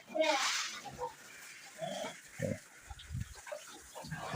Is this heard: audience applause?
no